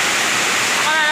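Heavy rain and fast floodwater rush in a steady, loud broadband roar, close and continuous throughout, with faint voice-like tones rising near the end.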